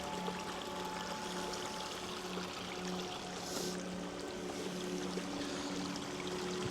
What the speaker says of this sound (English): I love the sound of that water.